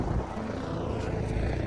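A helicopter flies over the mountain trail near Kedarnath, heard as a steady low rotor and engine drone that holds throughout, moderately close and without speech.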